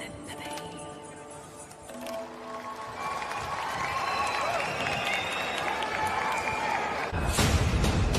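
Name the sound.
audience applause after a song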